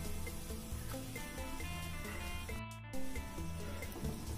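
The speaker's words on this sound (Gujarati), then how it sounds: "હવે આપણે 4-5 લીમડાના પાન નાખશું" Four or five curry leaves hit hot oil with cumin seeds for a tempering, giving a soft continuous sizzle and crackle, faint and close, with a brief louder spurt near the end.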